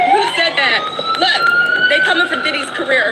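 An ambulance siren effect wails in rising, wavering tones, loud and close, while someone talks over it.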